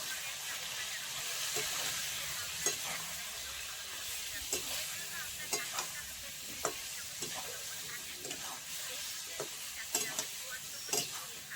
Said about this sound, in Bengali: বেশি ভাজবো না, হালকা করে ভাজবো